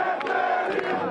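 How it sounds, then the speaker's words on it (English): A protest crowd outside the Greek Parliament in Athens chanting together, a dense, loud roar of many voices in a sustained shout with a couple of sharper accents. "They're chanting and clapping, and they're asking them to leave the square."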